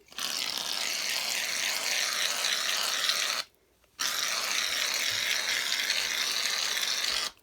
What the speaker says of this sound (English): shake up your shaving cream, spray it in,